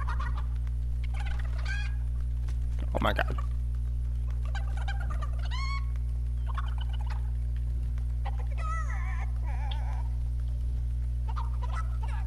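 Chickens in the Fortnite video game cluck and squawk in scattered short bursts over a steady low mechanical hum, with a few louder calls standing out.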